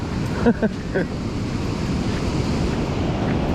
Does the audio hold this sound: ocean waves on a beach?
yes